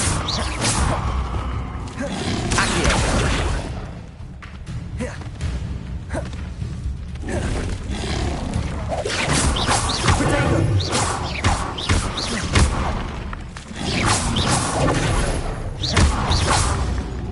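Reparo repair spell being cast in Hogwarts Legacy on PS5, amid loud, continuous whooshes, crashes and thuds of magic, with occasional voices in the mix.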